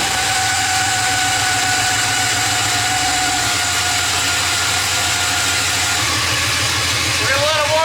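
A Ford Mustang with a swapped LS V8 engine and 4L80E transmission idles steadily as it warms up, a low, even rumble holding throughout with a slight shift in tone midway.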